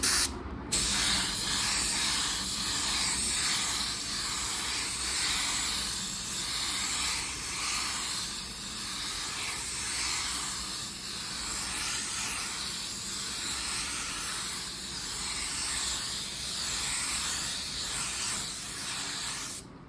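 A spray gun lays down a second wet coat of clear coat with a steady, loud, close hiss that runs almost unbroken, cutting out briefly near the start and end.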